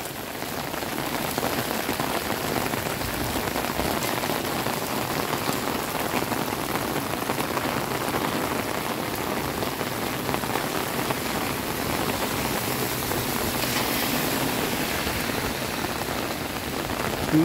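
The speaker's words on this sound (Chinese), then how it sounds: "天下大雨，我要来拍雨中的瀑布。" Heavy rain pours at Zhuxi Temple in Tainan, Taiwan, a dense, steady hiss of drops on surfaces that stays loud and unbroken throughout, with no voices.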